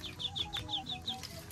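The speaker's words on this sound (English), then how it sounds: "You are a loud chicken." Baby chickens on a farm give a quick run of bright, high chirping peeps, about seven in steady rhythm, close by and alone over a faint background.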